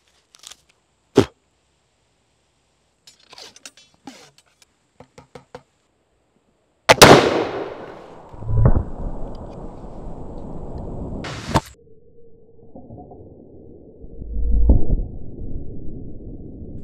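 A 1777 Charleville .69 caliber flintlock musket fires once, nearby, a sharp loud crack with a long echoing decay, followed by a second impact burst as the ball strikes a skull target, after faint clicks of handling beforehand.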